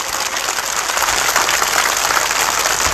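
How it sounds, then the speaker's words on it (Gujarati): A crowd at a Thakor community political rally applauds in a dense, steady roar of clapping that stays loud and even throughout, with no voice rising above it. "એકવાર જોરદાર તાળીઓ પાડો સાહેબ."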